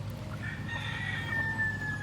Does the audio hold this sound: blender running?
no